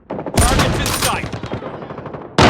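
Call of Duty Mobile gunfire on the KillHouse map with a sniper rifle bursts loudly and close, a dense crackling volley that fades out, then a second sharp shot cuts in at the end.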